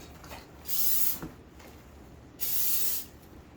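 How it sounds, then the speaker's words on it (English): A spray bottle hisses in two short, close bursts onto a brisket, separated by a quiet pause. "I like to spray it again, just so the salt doesn't bounce off."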